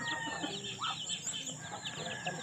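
Several chickens cluck at a rural Filipino home, a soft, continuous chatter of short clucks over faint outdoor background noise.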